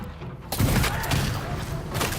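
Gunfire in Ghost of Yōtei on Lethal difficulty, several low, booming shots in quick succession at moderate level over a busy game soundscape.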